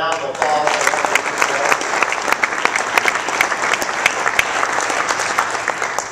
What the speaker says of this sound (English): So would you give them just a round of applause?